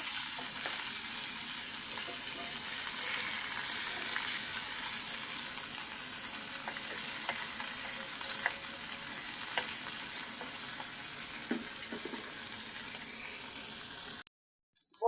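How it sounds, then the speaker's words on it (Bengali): Tengra fish fry in oil in a pan with a steady, close, crackling sizzle that continues unbroken before cutting off abruptly near the end. "বন্ধুরা আমার মাছগুলো ভাজা হয়ে গিয়েছে"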